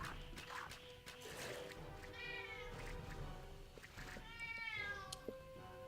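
A pet cat meows repeatedly for attention, several drawn-out calls close by and fairly loud, with no talking over them.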